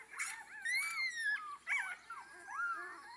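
A young pup whimpers and whines in thin, wavering high-pitched cries with short breaks between them, faint and close, with no talk.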